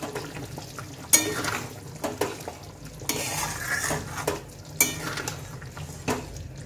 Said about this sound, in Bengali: এবার দিয়ে দেবো শাহী গরম মশলা। একটু নাড়াচাড়া করে নেব।